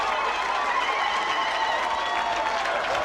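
Crowd cheering and applauding at a schoolboy rugby match between Rondebosch and Bishops, a steady, dense wash of clapping and cheers from a distant stand.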